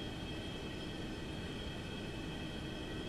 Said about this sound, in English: Hello, train. Everybody wave to the train.